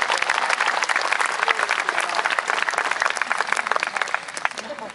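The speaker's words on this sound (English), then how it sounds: "Let's have a big round of applause for my assistant" Loud audience applause for a stage assistant named Summer at a rock and soul show, with dense, sustained clapping from a large crowd throughout and voices mixed in underneath.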